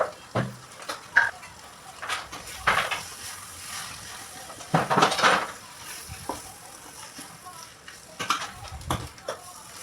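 Cooked rice for egg fried rice is tossed and mixed in a pan with a spatula, making irregular scraping and clattering strokes over a faint sizzle, close by, with no one speaking.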